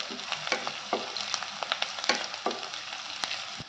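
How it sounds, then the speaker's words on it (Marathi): Finely chopped garlic sautéing over a high gas flame crackles with a dense, steady sizzle, punctuated by quick rhythmic scrapes and taps of a spatula stirring in the pan. "आता तुकडे टाकते लसणीचे बारीक बारीक केलेले. हे सगळं आपण परतून घेऊया."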